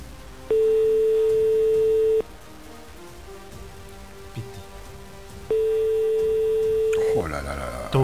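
A telephone ring tone sounds twice during a live phone-in prize draw, steady electronic tones lasting under two seconds each, separated by a quiet pause with faint background noise and a clatter at the end.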